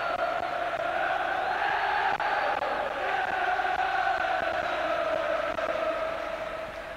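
A large stadium crowd at a 1997/98 UEFA Cup match between Liverpool and Celtic roars steadily for Liverpool; the chanting is loud and sustained, with sung tones carrying through the noise from start to finish.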